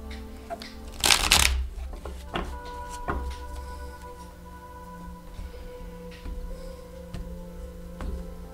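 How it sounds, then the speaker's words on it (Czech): Tarot cards being shuffled by hand, with a loud riffling burst near the start followed by softer, scattered card flicks and taps. The sound is close and there is no talk. "Já si tady domíchám karty"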